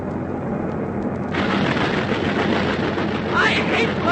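Anti-aircraft pom-pom gunfire from a valley gun emplacement in a wartime flying radio drama, a dense continuous rumble of rapid fire and blasts that swells loud after a quieter opening and holds steady to the end.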